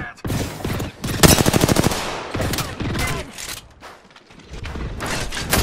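Video game gunfire in a squad shooter: dense, loud bursts of automatic fire with rapid rhythmic rattles and heavy thumps, filling most of the stretch with only short lulls, while a voice talks over parts of it.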